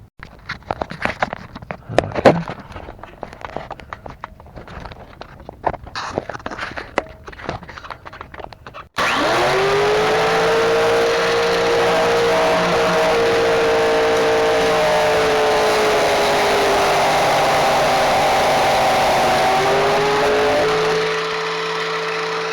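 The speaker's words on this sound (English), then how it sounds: "Hopefully we'll be done in a few minutes with our super power grinder." A power grinder cutting through a Ford Explorer front sway bar, starting abruptly after scattered handling clatter and then holding a loud, continuous high whine with a steady metallic roar, close by and without speech.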